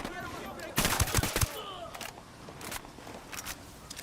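Gunfire in Ghost Recon Wildlands: a quick burst of sharp shots followed by scattered, fainter single shots in a tactical shooter, with voices talking in the background.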